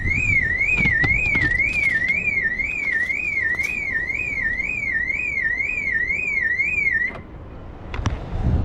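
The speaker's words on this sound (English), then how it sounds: "I did have the alarm on though" A boat's alarm blares after a storm, a steady two-tone electronic warble repeating rapidly for about seven seconds before cutting off abruptly, leaving faint outdoor wind and rustling.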